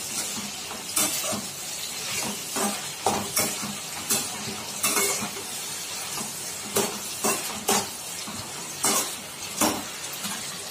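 Tomatoes are sautéed in a pan for tomato rice, with a steady low sizzle broken by a regular series of scraping spatula stirs and metal clinks throughout.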